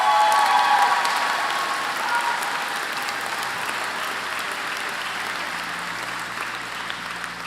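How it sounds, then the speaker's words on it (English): An audience at a community college convocation claps steadily, loudest at the start, then settling into an even, slowly fading round of applause with no talking. "One more round of applause, please."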